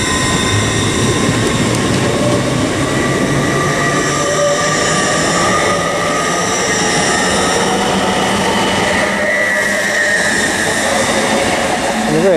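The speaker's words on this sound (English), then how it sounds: "LNER service to London King's Cross from York" An LNER passenger train departs Stevenage station on the East Coast Main Line, heading to London King's Cross from York, with a loud, continuous rumble of wheels and traction and some rising squeal, while a person talks faintly.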